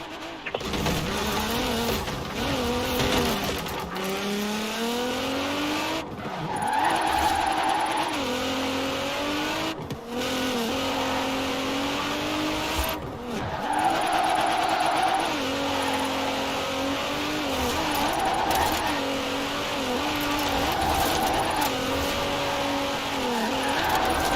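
A car drifting in Forza Horizon 4, its engine revving and wailing up and down through the gears continuously, loud and close, with tyre screech rising at times and brief shift dips.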